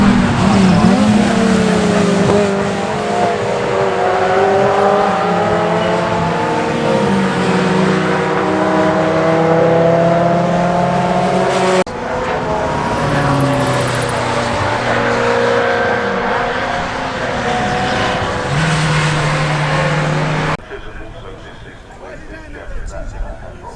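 Classic racing cars roar past at the Oulton Park Gold Cup, their engines loud and sustained, rising and falling in pitch as they accelerate and shift gears, with a brief change in the mix near the end.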